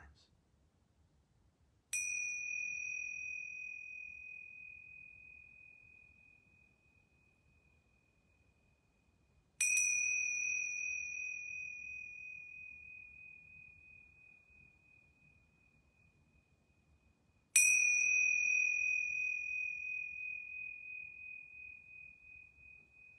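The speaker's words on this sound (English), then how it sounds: "I'm going to ring these yoga bells 3 times." Yoga bells ring three times at even intervals of roughly eight seconds, each a bright, clear chime that rings out and slowly decays into near silence, heard alone in a quiet room.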